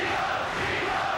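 A boxing arena crowd roars steadily during the final round of Eubank versus Collins, a dense, continuous wash of cheering voices urging the tired fighter on.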